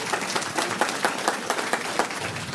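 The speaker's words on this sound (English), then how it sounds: "as you applaud Sean for right now" A meeting audience claps steadily in dense, continuous applause that holds at an even level throughout.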